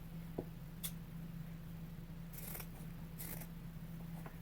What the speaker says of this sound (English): I am just cutting pieces.